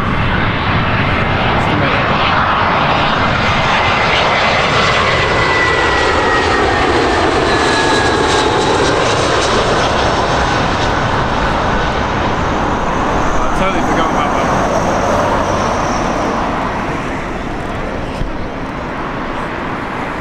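A jet airliner roars steadily past at London Heathrow Airport, loud and sustained with a broad whooshing engine tone that swells and slowly fades, a voice briefly audible under it.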